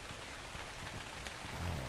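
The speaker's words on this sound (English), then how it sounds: "Oh, by the way, it is raining again." Steady rain in the video game ARK Genesis Ascended, a dense even hiss of falling drops with a faint low rumble swelling near the end, no voices.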